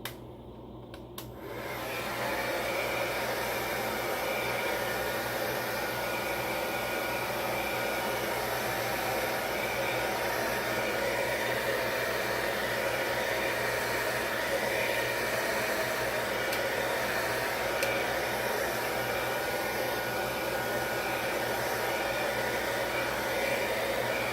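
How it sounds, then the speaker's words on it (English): A hair dryer blows steadily on a beard as part of a nightly grooming routine, a continuous loud airy roar that starts after a brief quieter moment and holds unchanged to the end. "Now we can go to the hair dryer."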